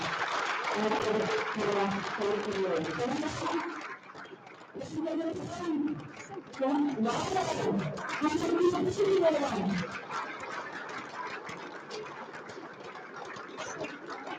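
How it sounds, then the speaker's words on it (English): Parents and families at a middle school eighth grade recognition night break into a broad round of applause in a hall, sustained clapping swelling and fading over several seconds with murmur underneath. "give your parents a huge round of applause"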